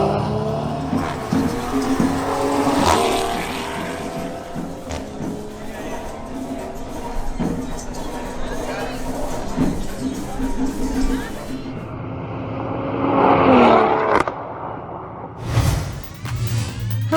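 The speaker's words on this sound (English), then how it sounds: "The next to make a pass is Jose Hurtado in his BMW X3 M40i." A BMW X3 M40i makes a drag racing pass. The engine roars and rises through the gears with whooshing passes and a hint of tire squeal, loud and sustained, then fades briefly before another surge near the end.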